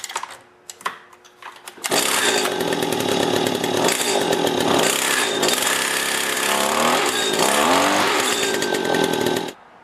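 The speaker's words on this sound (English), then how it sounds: "start it up and run it for approximately 30 seconds to allow the fuel that has the stabilizer in it reach the carburetor" A gas grass trimmer's two-stroke engine, run on fuel treated with stabilizer, starts after a few preparatory knocks and then buzzes loud and steady close by for about eight seconds before cutting off.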